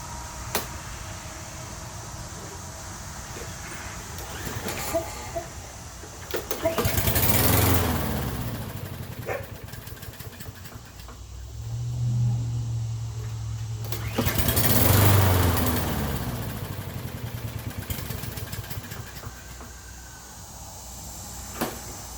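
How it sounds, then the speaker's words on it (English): A Toro lawn mower with a Briggs engine is pull-started twice, each pull giving a loud cranking rattle of a few seconds that fails to catch. Between the pulls, low mechanical clatter and some nearby talk are heard. "First pull, it tries to crank, but that's because a tiny little bit of fuel is getting in there"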